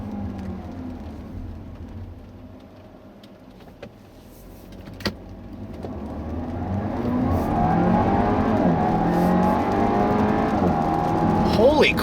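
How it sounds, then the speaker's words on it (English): Audi with a 2-liter turbocharged engine and 7-speed dual-clutch gearbox accelerating, heard from the cabin as a low hum that swells into a strong, rising engine note with gear changes, accompanied by a few clicks. "You can credit that to that dual clutch, man. This 7-speed dual clutch."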